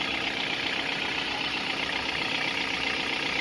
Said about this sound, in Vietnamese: Máy nổ rất êm.